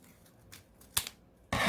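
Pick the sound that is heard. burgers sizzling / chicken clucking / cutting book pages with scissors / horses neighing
cutting book pages with scissors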